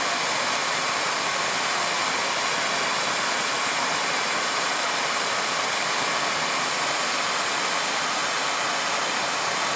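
A blow lamp roars steadily while heating metal to cherry red so it can soften for work on a Rover SD1, a loud, constant, broad hissing blast without any let-up.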